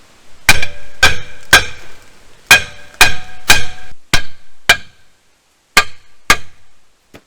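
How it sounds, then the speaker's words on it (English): Sharp metallic hammer blows on a stuck brake shoe of a 1979 Dodge D300 ring out in uneven bursts, about ten strikes with short pauses between them, loud and close with a clanging ring. "Let me whoop on it some more with a hammer."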